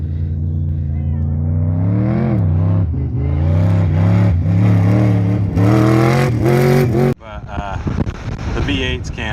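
A car climbs and runs across the Little Sahara sand dunes in Utah, its engine loud and close, revving in rising and falling surges with wind rush, then abruptly dropping away near the end to rougher, scattered noise.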